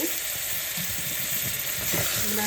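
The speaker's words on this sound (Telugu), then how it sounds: "ఈ కాళ్ళు వేసేసుకుంటున్నానండి." Mutton trotters (paya) going into a hot pan of frying masala give a steady, close sizzle, with soft stirring clatter throughout.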